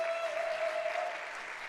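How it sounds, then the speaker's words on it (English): Audience applause following live original music performances at a book-inspired concert, a steady dense wash of clapping holding at moderate level throughout, with no voices over it. "a round of applause for all of our artists tonight"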